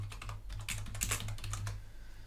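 Fingers typing on a computer keyboard, a quick run of light key clicks in a short burst, close and quiet, with no talking.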